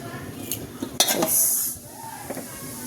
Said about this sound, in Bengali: তারপরে একটু হলুদ আর একটু শুকনো মরিচের গুঁড়া দিয়ে ভালোভাবে মেখে নেব।